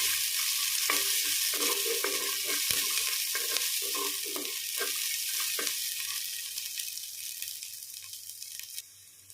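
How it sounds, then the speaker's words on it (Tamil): Garlic roasting in oil in a pan, a steady soft sizzle with light stirring scrapes over it, fading a little toward the end. "இந்த பூண்டு கொஞ்சம் நல்லா ரோஸ்ட் ஆகணுங்க"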